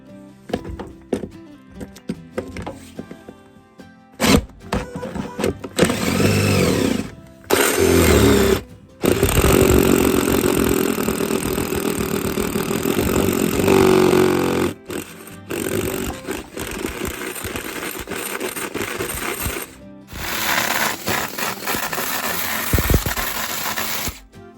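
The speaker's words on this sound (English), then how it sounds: "So let me finish drilling this hole." A power drill whirs in long, loud bursts with pauses between, grinding and straining as it bores a hole down through a wooden floor, with occasional knocks.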